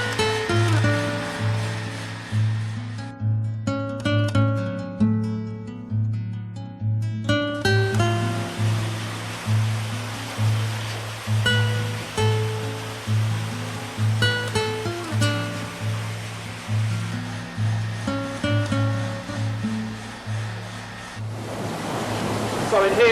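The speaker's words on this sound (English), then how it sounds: "So in here we're standing really at the whole heart of the mill with the water wheel" A mill water wheel turns in river water, producing a steady rushing wash with a regular rhythmic thumping pulse throughout, fairly close, with a tonal hum underneath and some clatter.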